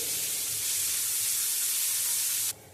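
Chopped onion hits hot mustard oil in a wok, already spiced with black cumin seeds and dried red chillies, giving a loud, steady, close sizzle that holds for over two seconds before cutting off abruptly.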